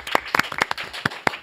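A small studio audience claps to welcome a guest reporter on a talk show, a sparse scatter of distinct hand claps, fairly close and uneven, without voices.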